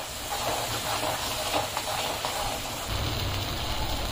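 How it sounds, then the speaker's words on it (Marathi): Ground masala paste for Kolhapuri mutton rassa sizzles and hisses steadily in a hot pan, a continuous close frying sound with no talk. "हे छानसं परतून घेऊया"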